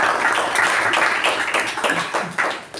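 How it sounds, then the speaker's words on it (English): A meeting audience breaks into a round of applause: dense, steady clapping from many hands, close and fairly loud, running the whole stretch with a few sharper claps standing out near the end. "I think this deserves a resounding round of applause for the great job done."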